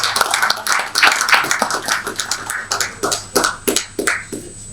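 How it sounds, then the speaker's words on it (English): A conference audience gives a round of applause, with uneven clapping that comes in irregular bursts at moderate loudness, thinning toward the end. "another big round of applause"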